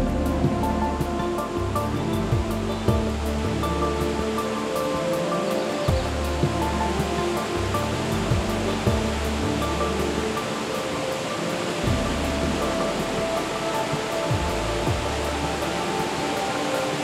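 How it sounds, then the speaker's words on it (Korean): Victoria Falls on the Zambezi River, which rises in Angola, gives a steady, dense roar of falling water that fills the whole stretch without pause, with a low tonal hum underneath and no voices. "앙골라에서 발원한 잠베지강이 1000km를 달려와 한꺼번에 물을 토해내는 빅토리아 폭포"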